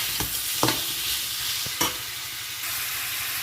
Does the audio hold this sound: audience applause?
no